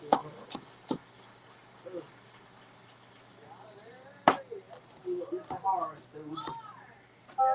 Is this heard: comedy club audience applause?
no